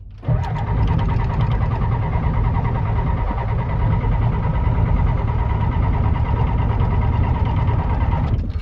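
A 1992 Ford F250 with an IDI diesel engine cranks steadily and loudly for about eight seconds, the starter churning rhythmically as the engine struggles and fails to catch.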